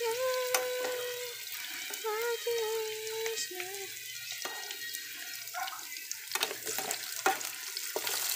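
Potatoes frying in a pan for chicken pochero, a steady close sizzle with clinks of a utensil stirring and tapping against the pan, plus some running water in the background.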